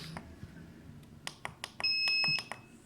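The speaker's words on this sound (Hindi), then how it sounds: "इसके बाद जैसे अभी इनक्यूबेटर ने अलार्म किया था, ये आप करवा के चेक करवाते हैं।" An XM18 egg incubator sounds its humidity alarm in a quiet room, a string of quick electronic beeps that speed up and merge into a sustained high tone near the end, with faint clicks and handling noise underneath.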